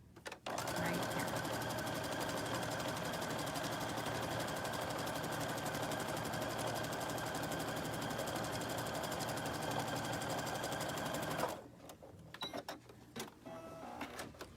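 A sewing machine stitches lines across fabric at a steady fast rhythm for about eleven seconds, close and even, then stops, leaving a few soft clicks and handling noises.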